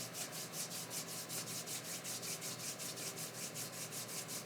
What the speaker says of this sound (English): So you're moving your hand from the heel to the toes, heel to toes, heel to toes.